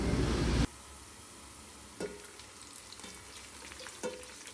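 Onion frying with cumin seeds, black peppercorns and black cardamom in a home kitchen; a loud burst of sizzle at the start quickly drops to a quiet steady hiss, with a few soft stirring clinks about a second apart.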